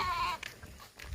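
A goat with a broken-off horn gives one short, nasal bleat up close. Quiet outdoor background noise follows it.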